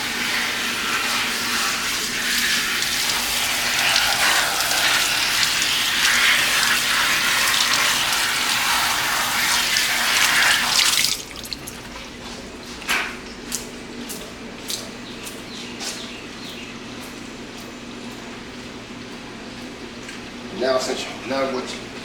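A kitchen tap runs in a steady, loud gush while lettuce leaves are rinsed for beef lettuce wraps. The flow then stops, leaving faint splashes and small handling sounds.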